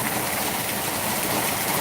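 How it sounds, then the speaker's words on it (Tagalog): Big raindrops fall hard in a downpour over a farm, a constant loud roaring wash of water without any pause or speech. "Kalakas ang ulan."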